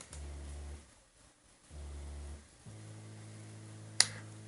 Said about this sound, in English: Let's also play the bass part, like the bass alone. Sounds like this, the bass line.